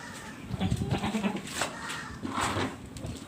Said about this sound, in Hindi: तो मेरे पास ये बकरा है फॉर सेल, 2 दांत, राजनपुरी